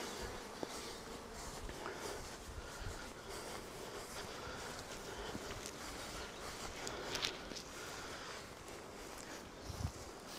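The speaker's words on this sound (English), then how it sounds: "So you can see our split bees, they're just hanging out." Honey bees from a freshly made hive split buzz steadily in a dense, close swarm drone, with a few brief knocks and rustles over the continuous hum.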